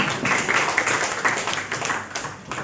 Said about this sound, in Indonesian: tepuk tangan dulu biar lebih semangat lagi